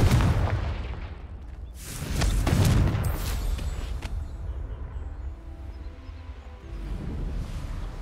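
In Hogwarts Legacy, a Confringo spell explodes with a heavy boom a couple of seconds in, then a rumbling tail and lighter game sounds fade beneath it.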